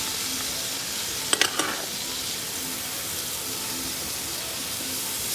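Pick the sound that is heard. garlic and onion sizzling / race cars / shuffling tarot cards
garlic and onion sizzling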